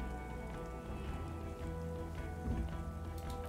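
Steady rain falls across a rain-swept city in the Disco Elysium video game, a continuous close hiss with a low droning undertone and no voices.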